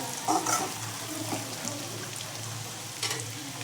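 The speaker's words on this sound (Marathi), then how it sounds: "कांदा आणि लसूण चांगलं फ्राय झालं ना" Onion, garlic and ginger fry in oil for homemade pav bhaji, a steady low sizzle with a few stirring scrapes and clinks near the start and end, no voices.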